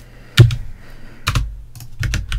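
Computer keyboard typing up close: a sharp key clack, a short pause, then a quick run of several keystrokes in bursts over a low steady room hum, with no talk.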